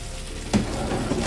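Leftover spaghetti fries and simmers in a cast iron pan, a steady close sizzle with one sharp clack of a utensil midway through, and no talking.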